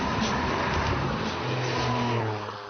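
A car with an automatic gearbox and a 5-litre V8 engine revs loudly and steadily nearby, its deep engine roar swelling and easing without a break.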